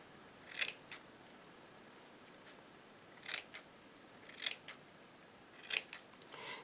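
Scissors snip through an organza fabric circle to form petals, with quiet, crisp cuts heard in pairs at spaced intervals against near silence.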